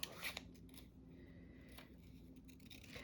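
Scissors cutting paper pieces for a junk journal, quiet close snips and rustles in quick short bursts with no voice.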